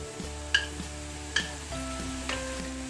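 Chicken, bacon and tomatoes sizzle steadily in a frying pan while being stirred. A utensil scrapes and clinks against the pan a few times over the constant close frying hiss, and nobody speaks.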